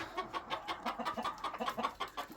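Several chickens cluck in a steady, overlapping stream of short, low notes, fairly close.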